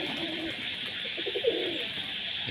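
Domestic pigeons coo softly in a loft after feeding, low murmuring calls under a steady hiss of background noise.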